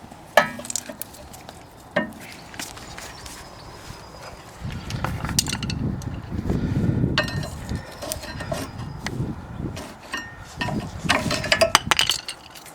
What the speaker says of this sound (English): we can remove the brake pads at the back